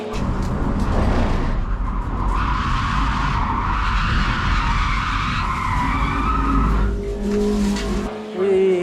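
A Tesla race car spins out on track at Laguna Seca during a Gridlife qualifying lap, tires squealing loudly and continuously for several seconds under the engine's drone, close and harsh, ending with a brief rougher scrub.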